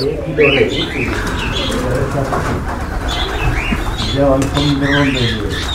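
Pigeons and squabs coo and squawk in a steady, busy chorus close by at a pigeon farm loft, with a human voice murmuring faintly underneath.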